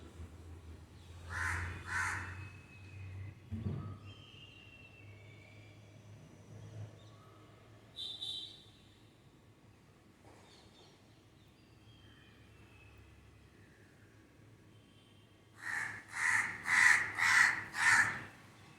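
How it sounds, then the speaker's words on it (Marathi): A crow caws twice early on, then after a long quiet stretch lets out a quick run of five loud, harsh caws close by. "कावळा येऊन बसला रे"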